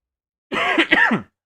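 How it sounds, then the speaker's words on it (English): A single short cough, two quick raspy bursts close to the microphone, set between moments of silence. "That cough snuck up on me."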